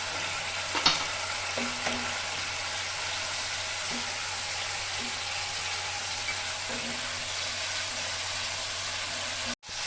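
Spice paste with ginger paste frying in a pan for a pointed gourd maharani dish, a steady close sizzle with a few soft stirring clicks, no talking.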